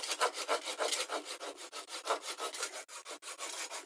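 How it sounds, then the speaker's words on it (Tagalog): A hand saw cutting through wood in steady back-and-forth strokes, a rhythmic rasping of roughly two strokes per second, close by and fairly quiet, with no talk. "Habang naglalagari."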